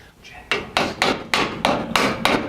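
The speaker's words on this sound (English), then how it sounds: "I think it's probably hammer time." Hammer blows on Jeep JL parts while fitting shocks and corner guards, seven sharp metallic strikes landing at a steady, roughly even pace, loud and close with no talking.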